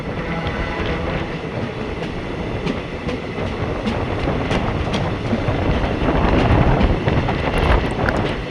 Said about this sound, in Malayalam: തൽഗുപ്പയിൽ നിന്ന് 203 കിലോമീറ്റർ കവർ ചെയ്ത് അരിസിക്കര ജംഗ്ഷനിലേക്ക് ട്രെയിൻ എത്തിക്കൊണ്ടിരിക്കുകയാണ്